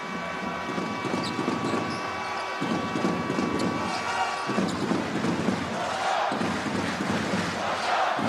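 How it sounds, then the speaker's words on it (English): Crowd noise at a basketball game involving Jordan, a loud, steady roar of the arena crowd with swelling cheers and a few sharp bangs, while a commentator talks over it. "the crowd are certainly starting to become a factor in this game"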